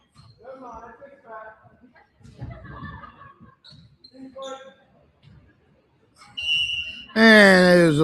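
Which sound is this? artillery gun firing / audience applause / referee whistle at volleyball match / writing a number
referee whistle at volleyball match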